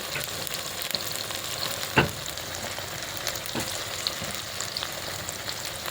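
Whole onions sizzling in hot oil in a pan with chili powder added, a steady close frying crackle broken by a sharp clink of a spoon and a few light scrapes.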